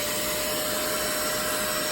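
A Shark steam cleaner runs while being used on car seats, giving a steady, even whirring drone with a faint constant whine, close and unbroken for the whole moment.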